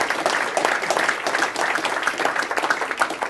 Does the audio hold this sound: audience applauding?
yes